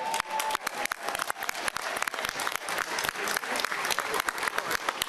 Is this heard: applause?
yes